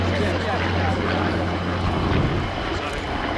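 A Spitfire and a Hurricane, propeller-driven warbirds of the RAF Battle of Britain Memorial Flight, drone past at the Royal International Air Tattoo airshow, with a loud steady engine roar under a commentator's voice.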